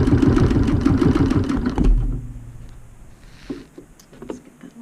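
BERNINA Q 24 longarm quilting machine stitching in the ditch on a customer's quilt, a fast close rhythmic stitching burst for about two seconds that stops abruptly, followed by quieter handling sounds.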